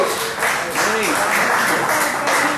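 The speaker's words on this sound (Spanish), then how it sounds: "Denle un aplauso fuerte a Jesús." A church congregation claps and cheers in a dense, continuous wave of applause during a sermon, close and loud, with voices calling out over it.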